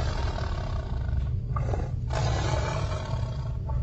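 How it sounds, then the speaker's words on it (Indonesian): A tiger roar sound effect, a loud sustained low growling rumble that fills the whole stretch, with a slight swell near the middle and no voices. "suara araman tersebut seperti suara araman harimau"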